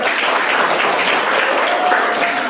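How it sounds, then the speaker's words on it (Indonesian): Steady applause from a classroom group cheering on the kencur team, dense, even clapping that holds at a constant level throughout, with a faint voice briefly audible underneath. "Tepuk tangan untuk kelompok kencur."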